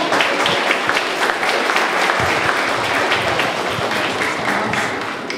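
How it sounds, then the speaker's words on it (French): A debate audience bursts into steady, dense applause for a speaker arriving on stage, loud and sustained throughout with no voices over it. "Sous un tonnerre d'applaudissements."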